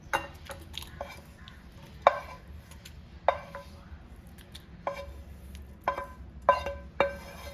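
Plain yogurt is whisked in a bowl for a Kerala-style plantain curry, with irregular sharp clinks and scrapes of the utensil against the bowl over a quiet background.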